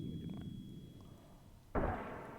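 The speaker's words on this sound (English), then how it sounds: "So there's a grenade there," A grenade exploding in a shooter game, one sudden sharp blast that jumps out of a low rumbling background and then decays into a broad noisy tail, fairly close, with no talking.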